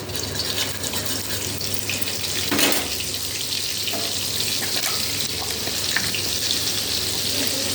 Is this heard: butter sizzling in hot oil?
yes